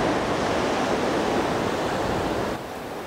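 Ocean waves washing onto a beach shoreline, a steady, loud broadband rush with no pauses and no voices, easing slightly near the end.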